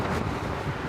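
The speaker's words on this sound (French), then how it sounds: "Le bruit, c'est celui que font les hélices en sortant de l'eau." A fast motorboat slams over waves at speed, its propellers lifting clear of the water, heard as a continuous loud roar of engine, wind buffeting and rushing spray throughout, with no talk.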